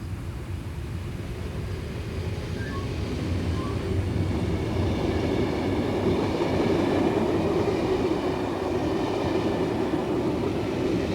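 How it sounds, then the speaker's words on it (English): A special train on the Swiss BLS railway rumbles through Kandersteg toward the Lötschberg tunnel at moderate distance, a steady rolling roar building slightly in the middle with faint clicking wheels. "the special train powers through Kandersteg before plunging into the famous Lutschberg tunnel"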